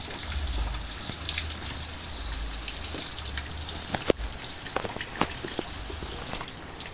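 Probiotic solution is poured onto village chicken feed, a close, gushing trickle of liquid with small splashes and a few sharp taps.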